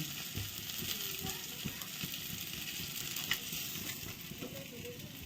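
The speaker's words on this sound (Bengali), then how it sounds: "লাস্ট মাছগুলো হয়ে গেল ভাজা" Pieces of rohu fish fry in hot oil with a quiet, continuous sizzle and crackle, broken now and then by faint stirring. The sound is soft and even throughout.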